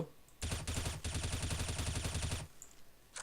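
Rifle gunfire in Counter-Strike: Global Offensive, a rapid automatic burst of closely spaced shots with one brief break near the start, then the shooting stops abruptly.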